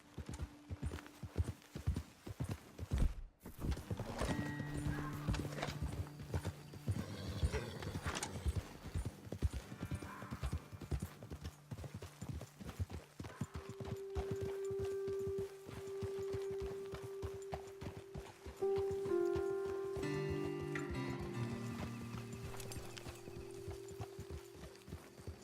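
Horses' hooves clip-clop at a steady pace while riding in the video game Red Dead Redemption 2, a continuous rhythmic clatter with a brief whinny and background tones, and no talking.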